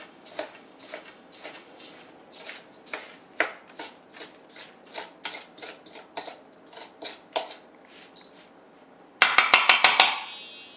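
Bread ingredients being mixed in a big bowl for Hudson Bay bread: a steady series of about twenty crisp knocks and scrapes in an even rhythm, ending in a quick, louder cluster of rattling hits.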